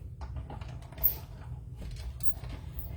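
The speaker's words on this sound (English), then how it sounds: "I'm going to run that through the cut and emboss machine" A die cut and emboss machine runs a plate stack through its rollers. The result is a low, steady mechanical rumble with light clicks and ticks on top, quiet and close, with no talking.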